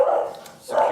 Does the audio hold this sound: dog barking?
yes